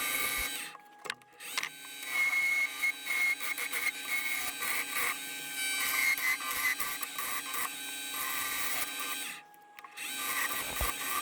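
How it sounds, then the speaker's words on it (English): A square-tipped carbide tool hogging material off a workpiece spinning on a woodworking lathe, a continuous loud scraping whir with rough fluctuations, stopping briefly twice before resuming, close and unaccompanied by talk. "I'm using a square-tipped carbide tool that really hogs out the material very quickly"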